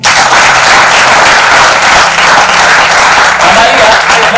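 Loud, dense applause from a seminar audience for someone speaker, a steady roar of clapping that fills the whole stretch without a break.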